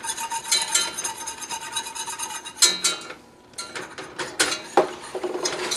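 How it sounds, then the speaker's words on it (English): A spoon or whisk stirring flour and fat into a roux in a pan, steady scraping and rubbing strokes with a couple of brief pauses, close and alone. "you want to get it all mixed up and into a roux"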